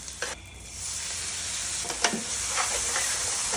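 Onions frying in hot ghee give a steady, loud hiss and sizzle throughout, with a few light clinks of stirring near the start and no one talking.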